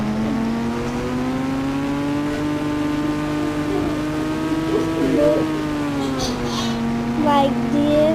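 A motorbike engine runs nearby with a steady harmonic drone that rises gently in pitch with small throttle changes, while faint voices are heard in the background.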